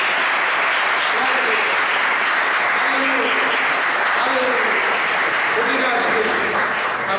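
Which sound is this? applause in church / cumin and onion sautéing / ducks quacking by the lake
applause in church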